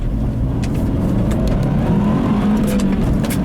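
A 2013 Subaru WRX STI 5-door accelerating hard, with a loud, steady engine roar rising in pitch from inside the car and no talk over it.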